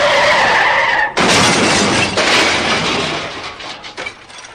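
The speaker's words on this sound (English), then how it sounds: "my time-traveling shrinking machine rust bucket ripped into the parking lot, losing a bumper and a mirror on entry" An old rust-bucket car skids into a parking lot and crashes, shedding a bumper and a mirror: a long loud tire screech and roar, with a sharp break midway and a clattering, shattering tail that fades out.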